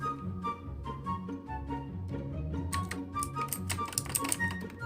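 Keys clatter rapidly on a K28 backlit mechanical gaming keyboard, a steady close run of clicky strokes that grows busier and sharper toward the end.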